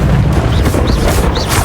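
Confringo explosive spell blasts in Hogwarts Legacy during a duel, a dense rumbling boom with short bursts layered over loud, continuous combat noise.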